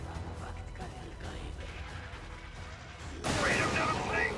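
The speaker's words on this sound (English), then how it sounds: "the airstrike is mincing things up now" Airstrike explosions in the game Helldivers erupt into a sudden loud, sustained blast after a stretch of rumbling combat noise, with a voice talking over the earlier part.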